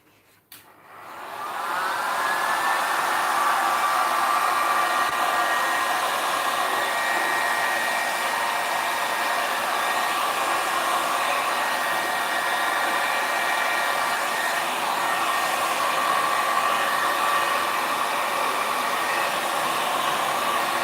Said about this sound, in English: I'll get the heat gun.